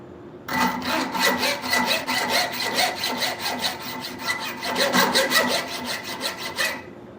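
A metal file rasps across the jimping on a knife, skating in quick, even back-and-forth strokes, close and fairly loud, with a steady rhythm that runs for several seconds.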